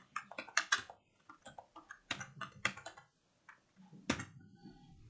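Quick bursts of close typing on a computer keyboard while HTML code is entered for a JavaScript beginner tutorial, with clustered key clicks separated by short pauses.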